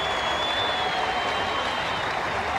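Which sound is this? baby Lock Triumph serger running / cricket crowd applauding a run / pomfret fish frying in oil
cricket crowd applauding a run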